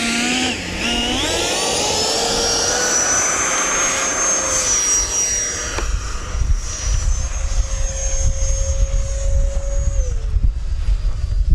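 A Freewing F-22 90mm EDF radio-controlled jet taking off, the ducted fan whining loudly at a high, rising pitch as it speeds past and climbs away, fading into rumbling wind noise.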